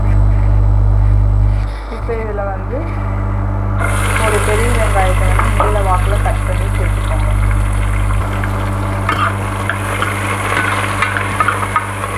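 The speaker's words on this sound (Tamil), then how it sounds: "வெங்காயத்தோடு சேர்த்து புதினாவும் சேர்த்து வணக்கிடுங்க" Onion and mint sautéing in a little hot oil in a cooker for a vegetable gravy, a steady sizzle with stirring scrapes under a low hum, joined by background speech and clatter partway through.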